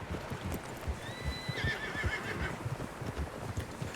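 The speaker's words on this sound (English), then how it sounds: "Horses, quite a few of them." Several horses in a video game neigh with one clear whinny rising and falling, over a busy bed of hoof clip-clops and rustling game ambience.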